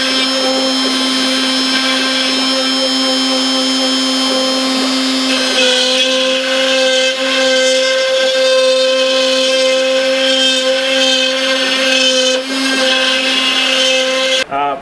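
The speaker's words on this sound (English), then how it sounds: "I set it up in the X-Carve software and then let Greg do his job" An X-Carve CNC machine carving walnut and cherry wood for an iPad stand, its spindle whining at a steady high pitch with a shift partway through as the bit cuts, loud and continuous with no talking.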